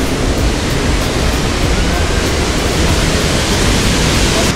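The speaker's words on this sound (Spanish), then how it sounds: "puedes sentir mucha paz porque se escuchan las cascadas" The Quetzalapan waterfalls in Chignahuapan, Puebla, heard close as a loud, steady rush of falling water that fills the whole clip without a break.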